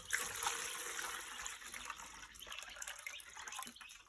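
Liquid poured from a container during broiler chick rearing, a steady trickling, splashing stream running close and continuously for a few seconds, with no talk.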